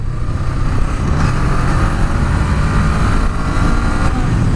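Honda Rebel 500 motorcycle engine pulling hard to overtake a car on an open road, a steady loud drone with wind rush throughout, no talk.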